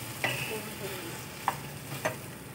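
Stuffed ivy gourd curry fries quietly in a pan, with a soft sizzle and three distinct scraping stir clicks spaced across the moment.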